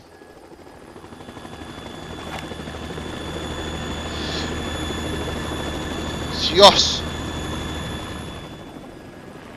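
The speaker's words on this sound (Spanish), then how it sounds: "El viento que deben de llevar las aspas al helicóptero" Helicopter rotor blades chop steadily in Metal Gear Solid 2, a continuous whooshing hum that swells and fades, with a short exclamation from a man partway through.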